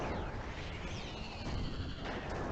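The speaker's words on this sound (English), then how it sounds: "the first wave of lightning explosions" Dense, continuous rumbling lightning explosions in a video game, with crackling bursts and a sweeping electronic whine, loud and unbroken throughout.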